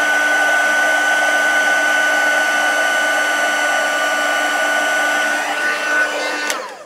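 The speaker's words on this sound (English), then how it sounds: "As soon as it's set, take your heat tool off." A craft heat tool blows a steady, loud whir with no talking, held at an even level throughout while heat-setting embossing on a handmade tealight box, then cutting off abruptly near the end.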